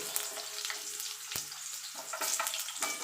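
Potato pieces frying in a pan with oil, five-spice seeds and a dried red chilli, heard as a continuous close sizzle with scraping stir strokes and a sharp knock, no voices.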